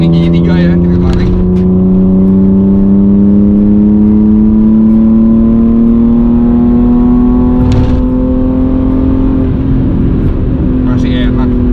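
A 1990s BMW 320i E36 pulls hard in third gear, its engine note climbing smoothly and steadily as revs rise for several seconds, loud from inside the car with people talking over it.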